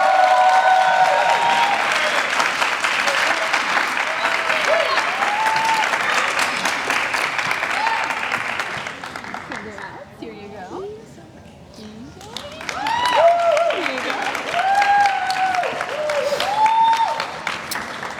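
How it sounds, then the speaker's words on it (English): Sustained audience applause at a 2024 high school graduation ceremony, a dense roar of clapping that dips briefly and then swells again, with a voice over a speaker system heard through it. "let's wait to clap until I read them all"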